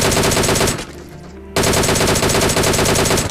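Rapid automatic gunfire in a video game, loud and close, with bursts of rattling shots interrupted by a brief lull before the firing resumes at full intensity.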